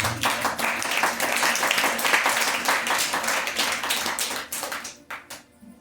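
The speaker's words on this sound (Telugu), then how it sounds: "గట్టి చప్పట్లు కొట్టగా" A church congregation claps loudly together in a dense, sustained burst of applause that fills the room, then thins to a few scattered claps at the end.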